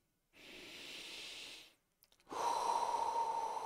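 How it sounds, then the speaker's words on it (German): A long, deep inhale through the nose during a guided present-moment meditation, close to the mic and hissing steadily, then a brief pause, a few soft clicks, and the start of a slow exhale. "Schließ einfach mal deine Augen und atme einfach mal so tief ein"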